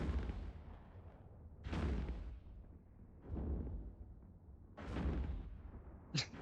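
Missiles fire in the space game Eve Echoes, several deep booming launches spaced a second or so apart, each with a rumbling decay, fairly quiet in the mix and with no talking.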